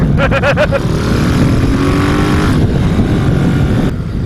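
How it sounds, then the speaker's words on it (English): Loud motorcycle engine roaring steadily while riding in a group ride through Maryland, a continuous close drone with wind rush and a brief rising rev near the start; a voice talks faintly underneath. "Jed's bike is so fucking loud."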